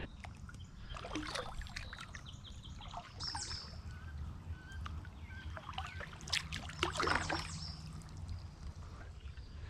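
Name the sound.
paddling a kayak up a creek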